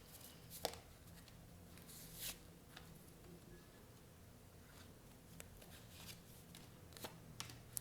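Tarot cards being shuffled and drawn by hand, a faint, continuous papery riffling with a few sharper snaps and slaps of cards, close but quiet, no speech.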